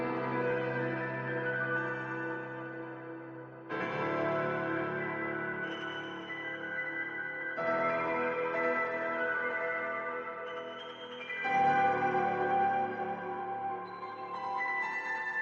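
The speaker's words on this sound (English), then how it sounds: "heading into the first layer is a piano layer from Addictive Keys." An Addictive Keys virtual grand piano on the Studio Grand Audience preset plays four slow sustained chords, each ringing out with a spacious, echoing tail, soft and alone without voices.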